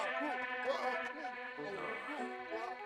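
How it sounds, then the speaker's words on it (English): Bees in the Pikmin 3 video game give off a wavering, whiny buzz layered over a sustained tonal game soundtrack that carries through the whole passage, fairly loud and close, with no speech. "Bees!"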